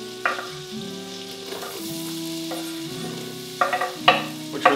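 Onions sizzling and frying as they hit a hot pot for butternut squash soup, a steady crackling hiss with sharper spitting bursts near the end and stirring scrapes, close and alone.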